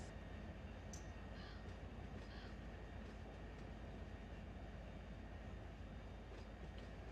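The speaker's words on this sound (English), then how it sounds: "The IM train's on the way." A train rolls along in the Run8 train simulator game, a constant dense rumble with steady rail noise and a few faint high squeals or calls above it, even in loudness and without speech.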